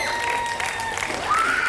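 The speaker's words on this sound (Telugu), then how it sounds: "గట్టిగా చప్పట్లు, అరుపులు." Applause and scattered cheering from an audience at a sangeet celebration, steady dense clapping across the whole moment with a few whistle-like cheers rising above it.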